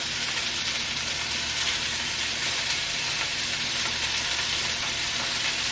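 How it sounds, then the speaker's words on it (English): Cheese-filled burger fingers fry in a hot pan while being basted with sauce, giving a loud, dense, continuous sizzle that stays even and close throughout with no voices. "So now I'm going to baste them with the sauce."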